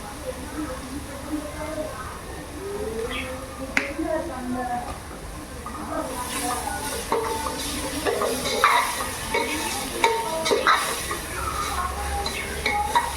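Masala for a prawn biryani sautés in a pan with a low, steady sizzle and the odd scrape of a spoon. A voice talks over most of it, and the sizzle grows brighter partway through.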